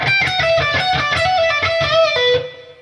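A short electric guitar phrase of rapid picked notes with a bend, played loud and alone before trailing off.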